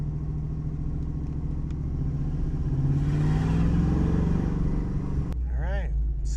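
A vehicle fitted with a new driveshaft pulls away in first gear, its engine rumbling and swelling in a rising rev before cutting off abruptly near the end, with a voice briefly audible afterward.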